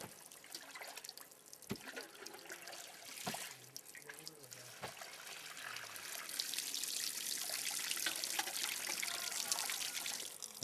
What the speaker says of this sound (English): The sago is then washed with the water.